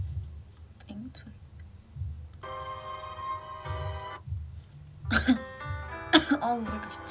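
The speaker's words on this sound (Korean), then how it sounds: "아우 왜 이렇게 기침 나오냐 나." A person coughs several times in a row, close and fairly loud, with throat clearing and whispered talk mixed in while music plays in the background.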